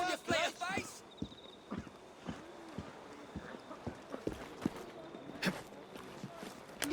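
Hooves of a horse in Assassin's Creed Syndicate clop in a steady, quick rhythm over a street, a string of distinct thuds with a short neigh at the start and someone talking over the top.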